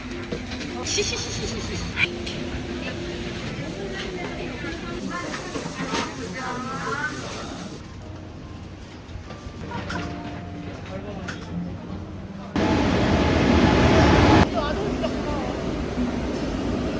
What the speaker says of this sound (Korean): 우리 열차는 용산역 신호대기로 천천히